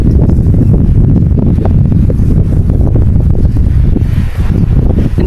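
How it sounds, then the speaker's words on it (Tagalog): Strong wind roars across a mountain summit, Mt. Masaraga, as a loud, continuous buffeting rush that batters the microphone with gusts, no voices heard. "So windy."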